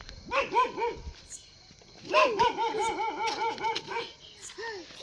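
A dog barks repeatedly in short bursts, fairly close, with a brief pause before a longer run of yappy barks and a final yip.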